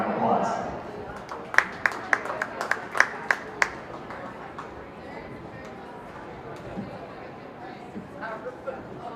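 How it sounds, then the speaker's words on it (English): A county fair open class beef show audience gives scattered, sparse applause for a heifer in the ring, a brief burst of separate claps over a murmuring crowd that fades into low background chatter. "Let's give her a nice round of applause."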